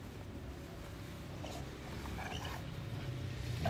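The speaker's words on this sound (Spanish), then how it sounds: "Como ladra, ¿Viste? Tremendo." A dog barks and whimpers faintly in the background over a steady low rumble of ambient noise, with a few short, indistinct outbursts and no clear speech.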